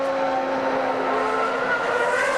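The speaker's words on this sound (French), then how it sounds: "Oh, léger dérapage, mais tout juste." Heinz-Harald Frentzen's Formula 1 car slides slightly through a corner during qualifying at the 2000 Canadian Grand Prix, a loud, steady, high engine whine held close throughout with a faint tire scrub.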